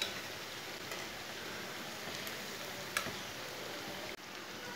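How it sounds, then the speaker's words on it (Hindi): Raw potato snacks frying in oil in a pan, a steady close hiss and crackle of sizzling with faint ticks and pops, continuing without talk. "इसे भी 2 मिनट तक फ्राई होने देंगे ये वाली साइड से"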